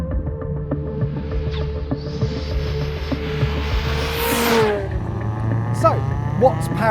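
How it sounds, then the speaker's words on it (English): A Volvo P1800 Cyan with a 2-litre four-cylinder turbo petrol engine revs and pulls away, a rising rasp that swells to a loud sweep before settling back to a lower drone, with occasional mechanical clicks. "under the bonnet is, yeah, a 2-litre 4-cylinder petrol engine"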